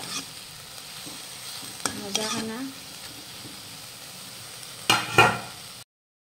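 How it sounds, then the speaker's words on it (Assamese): Potatoes being fried until crisp in a pan on a home stove, a soft steady sizzle with a few sharp stirring scrapes and clatters, and a short burst of speech near the end. "এতিয়া ইয়াত মচমচীয়াকৈ আলু ভাজোঁ"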